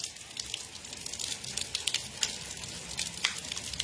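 Rain falls on a surface in Orós, Ceará, a soft continuous patter with scattered sharper drops ticking through it at moderate volume and no voices.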